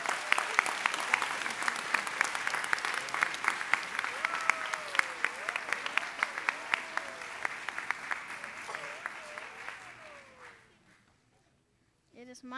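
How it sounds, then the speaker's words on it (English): Applause from a school winter concert audience, dense rapid clapping at steady strength for about ten seconds, then fading out to near silence, with a voice murmuring underneath. "Please join me in giving a big round of applause for Mr. Mata."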